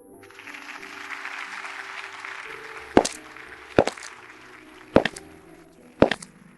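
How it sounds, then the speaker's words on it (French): Wedding guests applauding the groom at a ceremony: a soft, continuous wash of scattered clapping, with four sharp, loud impacts standing out at roughly one-second intervals toward the end. No talk. "Applaudissons bien fort notre marié"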